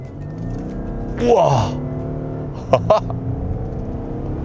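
An Audi Q8 50 TDI diesel V6 slows briefly then accelerates, heard as a steady low engine hum and road rumble with a swelling surge; a person exclaims over it and a couple of short knocks sound partway through.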